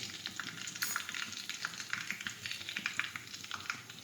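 Asafoetida dropped into hot oil with garlic and curry leaves for a green urad bean vegetable dish, a crisp crackling sizzle with sharp spitting pops, close and fairly quiet, no talk.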